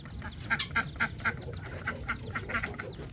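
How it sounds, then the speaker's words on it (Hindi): Ducks and ducklings quack in a quick, irregular series of short calls, fairly soft and close, over a low background hum. "अब इन बच्चों को हम डक्स समेत यहाँ लेके आते हैं, ताकि ये थोड़ा सा नहाएं।"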